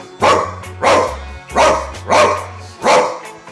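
Five loud, evenly spaced barks ring out close by, a person imitating a dog with gruff, forceful bow-wow sounds.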